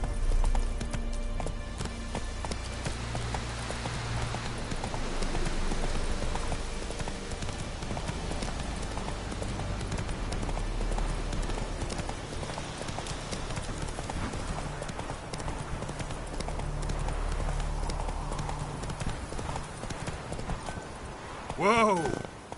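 A horse's hooves clip-clop steadily in The Witcher 3 video game, a continuous rhythmic trot over game music, with a player speaking at times and a sharp whinny near the end.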